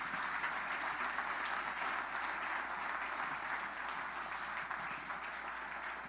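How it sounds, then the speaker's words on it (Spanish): A church congregation applauds, with sustained clapping from many hands throughout, heard from a moderate distance at a fairly low level. "Den otro fuerte aplauso a nuestro Dios."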